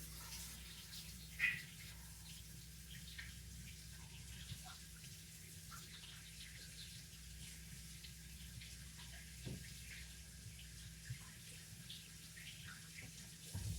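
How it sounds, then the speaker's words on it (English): A kitchen tap runs steadily into a sink as hands are washed after kneading bread dough, a continuous moderate hiss with faint splashes and small clinks, heard close with no talk. "wash my hands here"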